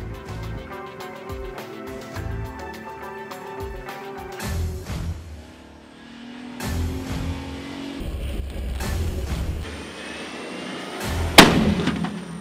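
A full-size 3,500-pound 2004 Pontiac Grand Prix drives head-on into a storm shelter at about 40 mph, engine noise and clattering building to a sharp, loud impact near the end.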